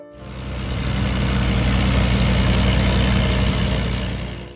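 Allis-Chalmers D14 tractor engine idling, a steady loud low rumble with even throbbing pulses that fades in and holds close before easing off slightly.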